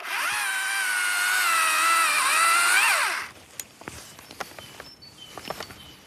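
High up in a tree, a cordless battery saw whines steadily as it cuts through a dead ash branch for about three seconds. Then it stops, leaving faint clicks and rustles.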